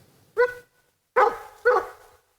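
Sled dogs bark three times at close range, the first a single yelp and the next two a quick pair of deep, loud barks, with silence between them.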